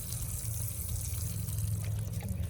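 Water is poured at the base of a berry plant in a garden, a faint steady splashing stream into soil that runs unbroken for a few seconds without speech.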